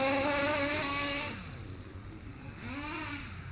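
A Kyosho USA-1 nitro RC truck engine runs at a high idle, buzzing loud and steady, then drops lower and revs back up, close by with no talk.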